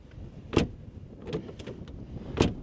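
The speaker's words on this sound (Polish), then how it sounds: "W ogóle dźwięk otwierania i zamykania drzwi." A 2022 BMW 518d car door clunks shut, followed by rattling latch and handle clicks, then another solid door thud, close by with no voices.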